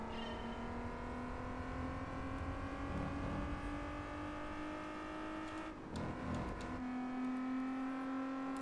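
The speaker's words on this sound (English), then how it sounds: "It sounds pretty similar to the Need for Speed VQ sound" Nissan VQ engine in a Gran Turismo 4 race car revving steadily at high pitch, holding a droning tone throughout with a brief shift dip near the end before climbing again, loud and close with no talk.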